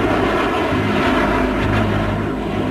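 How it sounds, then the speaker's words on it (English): An aircraft roars steadily over the desert at a test facility, a loud, unbroken engine drone that stays constant throughout with no voices. "they used the Groom Lake facility to test the A-12 spy plane"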